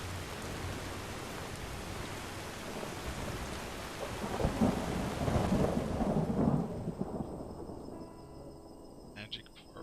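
Steady rain hisses across the whole stretch with deep thunder rumbling and swelling in the middle, then fading as the downpour thins, all inside the Enderal game world; brief talk-like traces surface faintly underneath.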